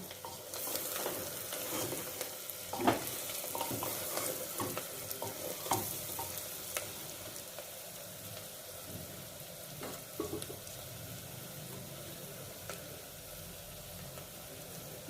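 Bihari-style Champaran garlic mutton fries in oil, without ghee, with whole garam masala. It gives a steady, fairly soft sizzle with intermittent scraping stir sounds and no talking.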